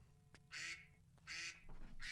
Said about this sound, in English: And the ducks are here.